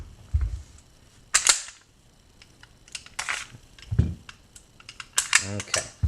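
Sharp metallic clicks and clacks from two SIG P226 pistols being handled, one an original West German model, as slides and parts are worked during a safety check, in scattered bursts close to the microphone.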